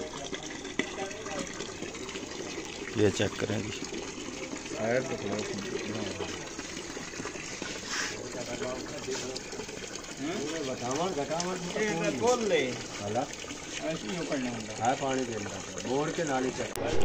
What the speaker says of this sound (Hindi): ये अब इसका पानी आ रहा है जी,